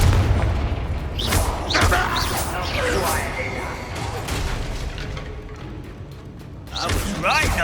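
Heavy booming blasts and thuds from a Confringo fire spell explosion in Hogwarts Legacy, loud and close, mixed with combat effects and in-game voices.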